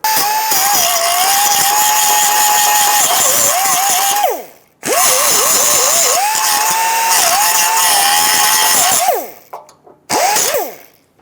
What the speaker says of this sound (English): I'm going to use my grinding wheel and just clean a little bit of the paint off around the edge of the hole